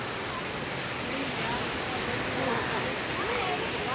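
Mother Falls waterfall in San Luis, Aurora, a continuous broad rush of falling water heard from nearby, with faint voices in the background.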